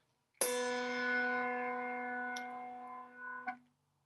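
A bass bell is struck once and rings with strong sustained overtones for about three seconds, then is cleanly damped and cut off at once, leaving a faint thud.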